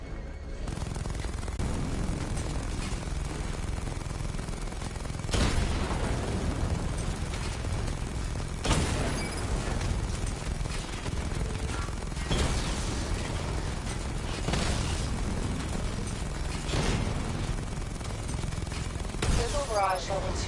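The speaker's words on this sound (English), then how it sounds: "Charge up missile barrage to level 2 and destroy 4 active targets to complete diagnostic test." Missile barrage explosions in the Batman: Arkham Knight video game, a series of loud blasts with dense rumbling gunfire-like bursts recurring every few seconds amid continuous game sound.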